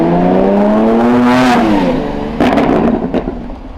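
Lamborghini Countach V12 engine revving loudly and close, pitch climbing then falling, followed by a second sharp blip of the throttle.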